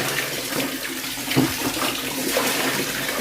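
Water splashes and pours steadily as an air conditioner filter is rinsed, with a continuous close running-water wash and a brief louder splash midway.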